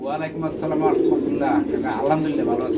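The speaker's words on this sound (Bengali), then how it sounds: "এখানেও মোটামুটি পঁয়তাল্লিশ পিয়ার কবুতর রয়েছে" Pigeons at a farm coo in soft repeated low calls close by, with someone talking over them most of the time.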